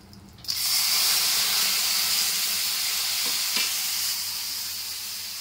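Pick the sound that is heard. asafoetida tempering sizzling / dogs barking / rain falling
asafoetida tempering sizzling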